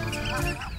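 Geese honk in a dense flock over the dikes of Neuwerk, a North Sea island, forming a continuous, overlapping clamor of many birds calling at once.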